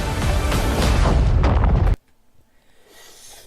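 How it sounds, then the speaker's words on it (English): A Star Destroyer blows up in Star Wars Battlefront 2: a loud, sustained rumbling explosion roars for about two seconds, then cuts abruptly to near silence with only faint low noise. "Another beautiful shot of Star Destroyer, like blowing up"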